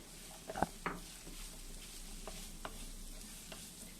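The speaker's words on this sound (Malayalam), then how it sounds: "ഇനി ഇതെല്ലാം ഒരു പച്ചമണം മാറുന്നത് വരെ ഒന്ന് വഴറ്റി കൊടുക്കണം." Sliced onions sauté in a pan for a Kerala-style squid roast, a faint, low sizzle with a few soft spatula clicks and stirring taps scattered through the quiet.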